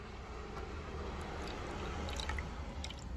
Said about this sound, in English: so it's not dripping everywhere on you